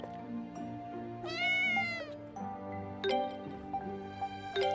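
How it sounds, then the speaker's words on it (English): Cat meowing in the video game Ys: Memories of Celceta, several distinct drawn-out meows separated by short pauses over a quiet tonal music bed. "Cat!"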